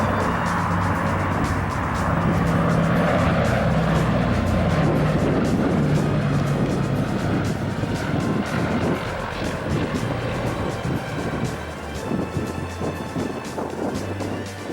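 A B-24 Liberator warbird's radial propeller engines drone loudly and steadily, a thick rumbling roar that holds throughout with a faint, uneven flutter.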